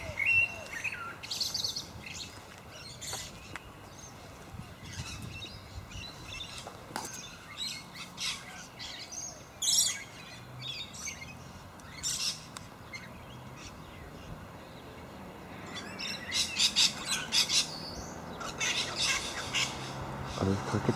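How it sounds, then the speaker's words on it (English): Cockatoos squawk in loud, harsh bursts near eucalyptus trees in a small town, with scattered chirps between them and people talking quietly at times. "Are those cockatiels? Cockatoos? I think those are cockatoos."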